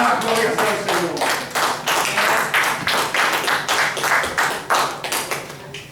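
Applause from a church congregation, a dense, sustained run of many hands clapping in rhythmic bursts that fills the room at close range.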